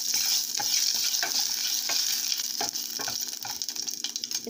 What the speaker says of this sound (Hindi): जीरा को अच्छे से तड़कने देते हैं